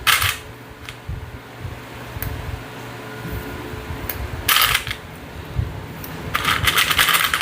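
Plastic sewing clips snap shut along the fabric edges of a hip bag, a few sharp, bright clicks spaced apart over quiet room noise.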